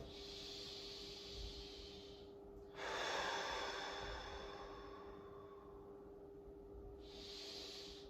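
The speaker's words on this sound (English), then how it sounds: "Three deep breaths for me" Slow, deep breaths during a beginner's hamstring stretching routine: close, long airy inhales and exhales, one drawn out after another, with no talking.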